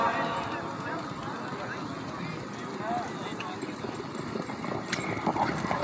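Horse hooves clip-clopping at a horse riding event, a steady run of hoofbeats beneath continuous loud announcer talk over a public address, with crowd noise in the background.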